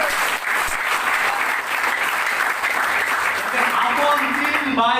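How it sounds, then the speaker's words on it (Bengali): Loud, sustained applause from an audience at a ceremony honoring women, dense clapping filling the space with a voice speaking faintly underneath. "এইসব নারীদের জন্য জোরে একটা করতালি হবে।"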